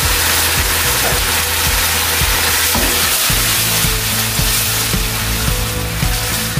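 Food sizzles and fries steadily in a pan while a utensil stirs and scrapes through it, with a low hum underneath.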